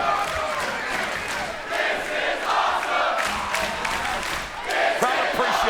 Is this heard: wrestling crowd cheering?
yes